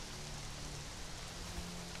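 Rain falls steadily in the survival video game Conan Exiles, a dense, even hiss of drops on surfaces that stays faint and constant throughout, with no talking.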